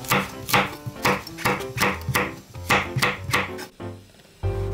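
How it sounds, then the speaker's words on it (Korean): A knife chops green and red chili peppers thinly on a cutting board in quick, even taps, about a dozen crisp knocks close by, ending with a short pause and a scrape. "고추는 얇게 썰어주세요"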